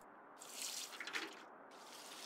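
Water pouring from a watering can onto plants in the game Among Trees, a soft steady splash and trickle rising briefly in the middle, quiet and continuous with no talking.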